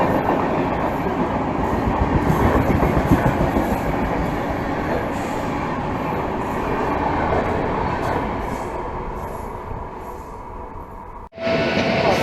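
A Jan Shatabdi Express passenger train runs on rails near Ghaziabad, heard as a loud, continuous rumble with a rolling clatter of wheels, cutting off abruptly near the end.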